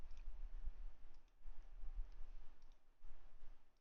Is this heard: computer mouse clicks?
yes